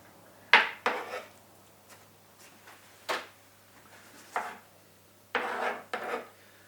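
Pumpkin seeds being scooped out with a utensil for a chocolate pumpkin pie, heard as a few separate scraping, rasping strokes against the flesh and shell, fairly close and quiet with short pauses between them.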